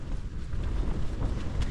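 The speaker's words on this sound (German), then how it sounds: "der Wind ist doch voll gut, dass es so rauszieht" Wind gusts outside a tent on a cycling trip through Armenia, a low rumbling roar that buffets the microphone in uneven surges, close and fairly loud with no voices.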